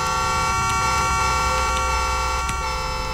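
A steady electronic car horn blares continuously in Roblox, loud and sustained with a few faint clicks over it.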